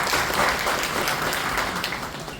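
An audience applauding to welcome a father at a retirement program, a dense continuous wash of many hands clapping, fairly close and steady throughout.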